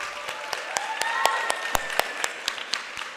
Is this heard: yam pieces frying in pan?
no